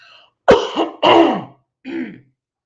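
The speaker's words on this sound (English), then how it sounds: "Hold on, I'm going to cough" A woman coughs and clears her throat in three harsh bursts, close to the microphone with no speech, during a live chat about sugar-free foods.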